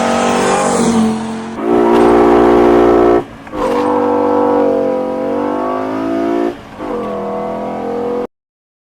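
A modified 200 hp Mk2 Golf GTI engine revs hard and loud, screaming up through rising pitch sweeps in several long pulls broken by short gear-change dips, with no talking.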